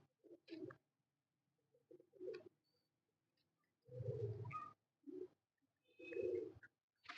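A rooftop street pigeon gives repeated low, rolling coos in short bursts, several soft calls then two longer, louder ones, close by with quiet gaps between and no talking.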